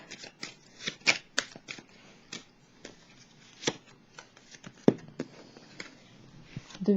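Tarot cards shuffled and drawn by hand, a run of crisp riffling and snapping card sounds, close and fairly quiet, in irregular bursts with pauses between them.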